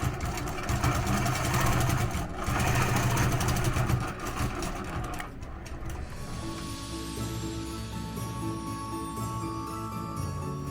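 A sewing machine quilting leaf veins over chenille runs in a fast mechanical whir with rapid stitching ticks, louder at first, then continuing steadily at a lower level, close by with no voices.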